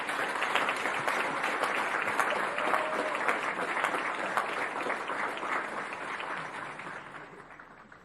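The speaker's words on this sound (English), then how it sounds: "Let's give them a round of applause." Sustained audience applause for scholarship donors at a Palm Beach County recognition event, a dense, even wash of many hands clapping at moderate distance that fades out over the last couple of seconds.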